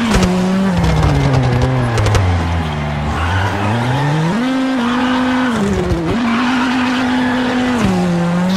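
Toyota Yaris rally car spinning donuts in WRC 7 on a Spanish stage: a loud, close engine wails up and down in pitch while tyres screech and skid continuously throughout.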